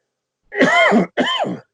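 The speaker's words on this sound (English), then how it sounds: "I have coughed daily for probably 40 years, so don't be terribly concerned if I cough." Two quick coughs, a longer one and then a shorter one after a brief pause, close to the listener with silence around them.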